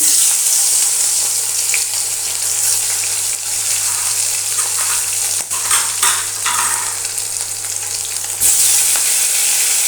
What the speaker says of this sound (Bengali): দুটো মাছ আমি ভেজে নেব